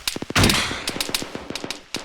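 Sharp staccato gunfire during a military operation, with a rocket launcher blast: a burst of rapid shots, one loud broad whoosh-like boom, then more scattered cracks and bursts at mid distance.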